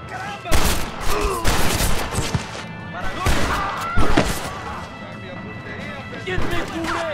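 Gunfire from the Red Dead Redemption video game: a volley of loud gunshots in bursts across the clip, mixed with shouting voices and in-game talk.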